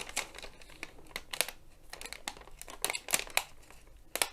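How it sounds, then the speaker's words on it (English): A perforated paper sheet on a diamond painting canvas is peeled and torn in short crinkly bursts, close and crisp, an irregular series of ripping and crackling snaps with brief pauses between them. "I'm worried it's going to tear away. No, it's tearing."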